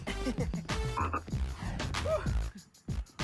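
Playful voices on a children's hip hop show mimic frog croaks in a rhythmic run of calls over steady dance music, close and loud with brief pauses near the end.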